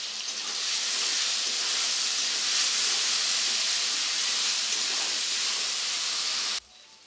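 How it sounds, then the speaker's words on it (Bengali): Tomatoes fry with a pinch of salt in a pan for a tangra fish rosha, giving a dense, even hissing sizzle that holds steady for several seconds and then stops abruptly. "ততক্ষণ পর্যন্ত ভেজে নেব যতক্ষণে না টমেটোগুলো হালকা গলে যাচ্ছে।"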